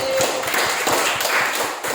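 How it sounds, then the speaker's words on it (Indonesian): A class of students claps hands together, a dense run of quick overlapping claps filling the room for a couple of seconds. "Tepuk tangan untuk Nabi."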